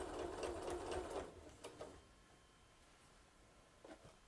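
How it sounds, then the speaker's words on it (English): A sewing machine runs in a short burst of fast stitching across quilt block seams, then stops, leaving quiet room tone with a few faint clicks near the end. "I just sewed over my pins because I wasn't paying attention"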